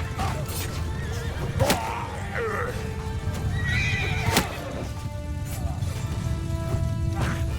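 Horse neighs and whinnies from Mount & Blade II Bannerlord rise over a steady din of battle with hoof clip-clops and occasional sharp impacts. The whinnies are prominent and repeat across the scene.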